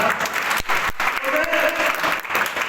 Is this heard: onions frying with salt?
no